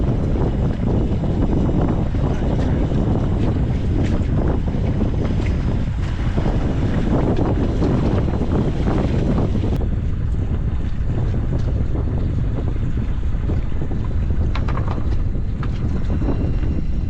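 Strong wind buffets the microphone on a boat out on open water while crab traps are being checked, a loud, constant roaring gust noise mixed with water sounds throughout.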